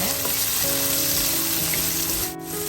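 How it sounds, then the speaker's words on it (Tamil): Fenugreek seeds sautéing in hot oil for a mushroom gravy give a steady, loud, close sizzle with a faint tonal hum beneath it and no talking. "சேர்த்துட்டு கொஞ்ச நேரம் வதங்க விடுவாங்க."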